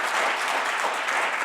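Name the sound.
audience applause for the panelists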